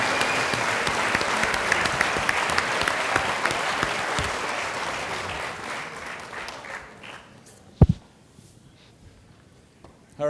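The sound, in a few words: audience applause at a celebration event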